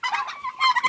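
A quick burst of warbling turkey calls, two short gobbling rattles close by at feeding time, with no talking.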